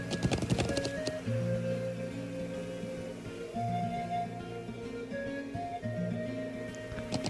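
Horse hooves clip-clop in the Trails of Cold Steel video game, a quick run of rhythmic hoof beats near the start, then faint continued steps under sustained game music.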